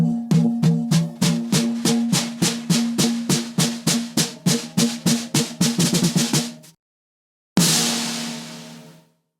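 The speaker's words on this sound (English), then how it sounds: "I'm gonna start with the snare wires way too loose and I'll tighten it from there." A snare drum with its wires set far too loose, struck in a steady run of about two dozen evenly spaced hits with a rattling buzz, then a pause and one final sustained hit left ringing out.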